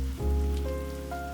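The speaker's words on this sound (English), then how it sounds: "guided by the soothing rhythm of the rain" Steady rain falling on a surface, a soft continuous patter under sustained low ambient tones, calm and even throughout.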